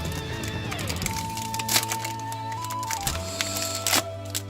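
A Yu-Gi-Oh Christmas booster pack is torn open up close, with sharp crinkling, crackling bursts of foil wrapper over a faint, steady tonal hum in the background.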